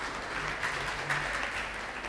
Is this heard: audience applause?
yes